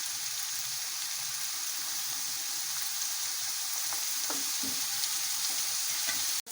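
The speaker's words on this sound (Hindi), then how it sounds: "तकरीबन 2 मिनट हम फ्लेम जो है ना वो मीडियम लो रखेंगे ताकि प्याज का जो पानी है वो अच्छी तरह से बाहर आ जाए" Onions frying in a pan over a medium-low flame while cooking a traditional mutton korma, giving a steady, even sizzle that holds at one level throughout, with a few faint stirring scrapes near the end.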